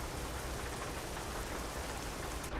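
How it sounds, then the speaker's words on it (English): Rain in the truck-driving game Euro Truck Simulator 2 falls as a dense, steady hiss of drops drumming on a surface, uniform and moderately loud for the whole stretch. "Oh, come back in, it's raining."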